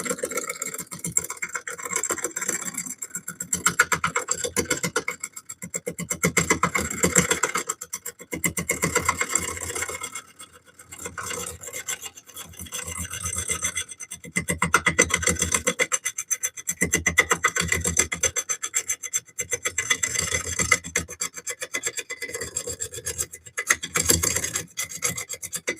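A wooden bowl spins on a wood lathe while a tool makes a push cut. It gives a continuous loud rasping, scraping drone that swells and dips with the passes, with brief pauses.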